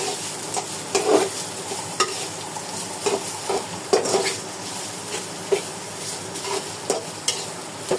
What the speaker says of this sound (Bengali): তেল গরম হয়ে এসেছে, এখন কেটে রাখা সকল উপকরণ এখানে ঢেলে দিচ্ছি। একটু নাড়াচাড়া করছি।